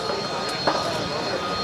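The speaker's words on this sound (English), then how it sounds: "Okay, another vertical takeoff." A Sea Harrier jet flown by Art Nalls at the Langley AFB airshow in 2009 runs a steady, distant engine roar and whine during a vertical takeoff, with a faint crowd murmur in the background.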